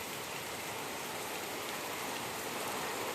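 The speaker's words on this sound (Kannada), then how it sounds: "ಎಷ್ಟು ದೊಡ್ಡ ಮಳೆ ಬಂತು ದೇವ್ರೆ" Heavy first rain of the year, mixed with hail, pours down in a dense, steady roar that stays loud and unbroken throughout.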